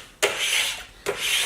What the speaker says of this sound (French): Quasiment tous les mois, on va tout simplement gratter nos établis